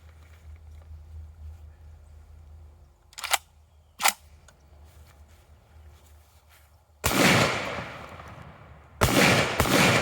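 An Eternal Arms 20 gauge shotgun gives two sharp metallic clacks as its charging handle is cycled, then two loud, close gunshots with a roaring tail. The shots are separated by a pause of about two seconds, and no one speaks.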